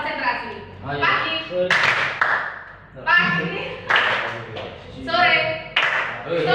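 Students in a classroom at MA Amanatul Ummah Surabaya alternate spoken call-and-response lines with short bursts of group clapping, several separate clap clusters spaced across the clip, close and fairly loud.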